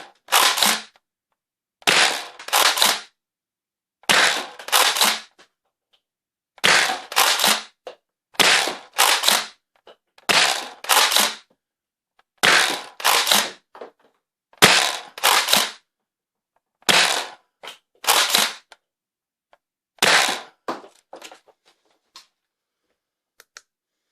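An X-Shot Pro Longshot 2.0 toy blaster fires repeatedly through a chronograph, each shot a sharp snapping crack, arriving mostly in close pairs at regular intervals with silence between.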